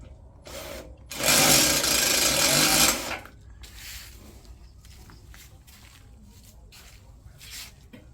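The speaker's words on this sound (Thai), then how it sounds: "เราใช้สว่านนะคะ ทุกคนเดี๋ยวเรามาลองดูกันค่ะ" A cordless drill turning a hand-crank wire stripping machine whirs loudly for about two seconds, steady and high-pitched, then cuts off, leaving quieter rustling and handling noises.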